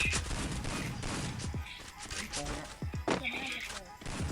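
Gunfire from the Free Fire battle-royale game comes in short bursts and scattered shots, mixed with excited talk from players throughout.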